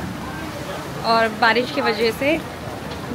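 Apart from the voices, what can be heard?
rain at a Tanabata festival in Japan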